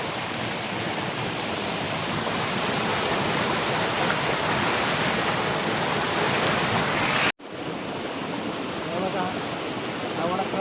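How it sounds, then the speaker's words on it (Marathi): Water rushing over a broken check dam near the Ganapati Gadad caves and Leni waterfall at Sonawale, Murbad, a loud, steady broadband roar that cuts out briefly near the end and then resumes. "पाणी वाहत आहे तुटलेला आहे बांधारा"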